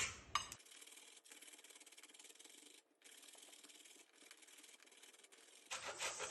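Cauliflower grated by hand on a grater in a home kitchen, a quiet continuous rasping rub with brief pauses, close and soft, with no talking.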